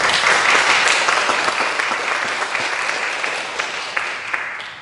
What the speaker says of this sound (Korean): 우리 심상희 목사님과 성지교회 성도님들 위해서 한번 박수 한번 부탁드리겠습니다.